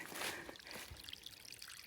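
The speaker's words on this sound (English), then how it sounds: "it's flowing enough to resupply on water" Water trickling and pouring in a small stream along the Appalachian Trail, a steady close babble with brief splashy bursts and no talk.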